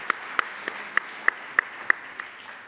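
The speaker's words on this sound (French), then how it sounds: "Je crois qu'on peut l'applaudir." In a council chamber during a plenary session, about eight slow, evenly spaced hand claps ring out, fairly faint and distinct, fading toward the end over a quiet room hum.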